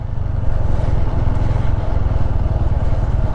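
A group of bikers rides motorcycles past on a mountain road in Ladakh, producing a loud, close, continuous engine drone with a throbbing, rumbling tone and no speech.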